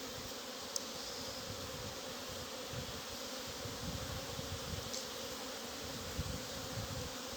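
A swarm of honey bees from kept hives buzzes steadily outdoors, a dense, continuous low drone at fairly soft volume with no talking.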